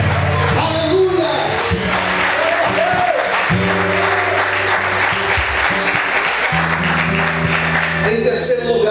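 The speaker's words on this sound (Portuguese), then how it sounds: "Você pode aplaudir e exaltar esse Jesus" A church congregation applauds during a Portuguese-language sermon about Jesus, steady clapping and crowd noise filling the room while a voice carries on over it.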